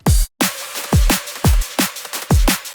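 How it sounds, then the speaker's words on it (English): Unprocessed drum and bass drum loop: punchy kicks with falling low thumps alternate with snappy snares and ticking hats in a fast, steady rhythm, close and dry, with a brief gap near the start and no voices. "So drums without processing sounds like this."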